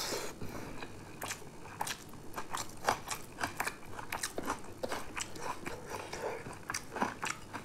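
Close-up chewing and crunching of spicy pork curry with raw green chilli, repeated crisp bites and wet mastication in an irregular rhythm, with no talk.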